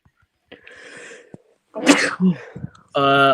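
A sharp, explosive sneeze breaks out after a short sniffing intake, followed by a brief spoken voice.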